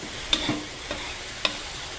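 Shrimp stir-fried in a pan with fish sauce added: a soft background sizzle broken by three or four sharp spatula knocks and scrapes against the pan, with no voices.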